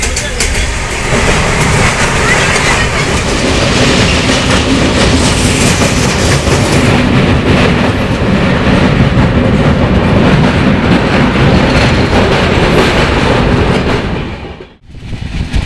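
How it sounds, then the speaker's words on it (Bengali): A Sealdah–Puri Duronto Express train runs steadily on the tracks, with loud continuous rumble and rhythmic clickety-clack close by throughout, dipping briefly near the end. "ট্রেন চলতে শুরু করে দিল"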